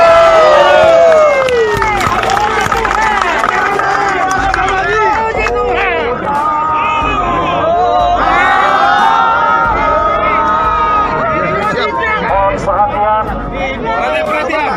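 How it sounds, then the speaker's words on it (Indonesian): Crowd at a church community gathering in Cikarang claps and cheers loudly, with whoops and excited voices over sustained applause, and a voice speaks over the noise throughout. "Tepuk tangan untuk PBB."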